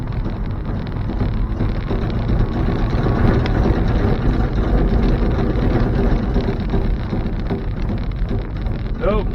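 A 1972 Chevy C10 truck with a TH350 transmission that won't shift drives roughly, its engine droning loud and steady under constant road rumble and wind buffeting, with no gear change heard.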